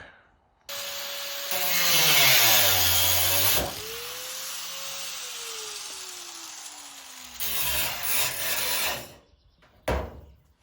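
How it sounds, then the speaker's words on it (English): An angle grinder cuts sheet metal on a 1982 Honda CB650 motorcycle, its loud motor whine rising and falling in pitch as it bites and eases off, then stopping, with a short burst near the end. "I'm just going to go ahead and use a grinder."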